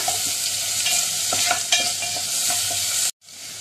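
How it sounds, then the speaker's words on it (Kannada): Chopped onion frying in a little oil for potato samosa filling, a steady close sizzle with a few stirring scrapes, cutting out abruptly near the end before resuming softly. "ಈಗ ಈರುಳ್ಳಿ ಸ್ವಲ್ಪ ಎಣ್ಣೆಯಲ್ಲಿ ಫ್ರೈ ಆಗಬೇಕು"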